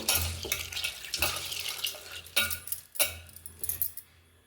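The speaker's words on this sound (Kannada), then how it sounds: "ಕಾಳುಗಳನ್ನೆಲ್ಲ ನಾವು ಒಂದು ಮೂರು ಸಲ ನಾಲ್ಕು ಸಲ ತೊಳ್ಕೊಬೇಕು ಚೆನ್ನಾಗಿ ಈ ಥರ" Water splashes and swishes in a bowl in several bursts, with grainy rattling as black-eyed peas are rinsed, then it quiets.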